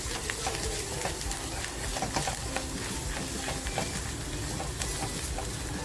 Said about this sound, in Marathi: बघा, मसाला आहे ना, छान फ्राय करून घ्यायचा आहे आपल्याला.